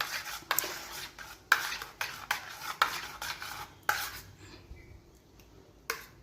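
A spoon stirs cream in a bowl to churn homemade butter, giving sharp, irregular clinks and scrapes in bursts that thin out toward the end, close and fairly clear with no talk.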